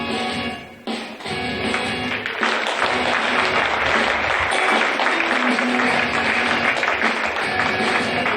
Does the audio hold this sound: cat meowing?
no